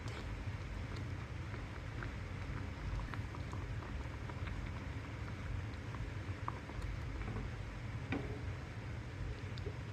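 A steady bubbling, sputtering boil of eggplant gravy in a pot runs throughout, a dense simmering hiss with occasional small pops, close and continuous with no voices.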